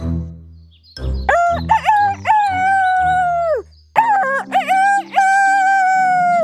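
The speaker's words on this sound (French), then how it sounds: "un coq sauta sur sa tête et se mit à chanter" A loud, close rooster crow repeated twice, each call a rising then long drawn-out cry, with no other sounds around it.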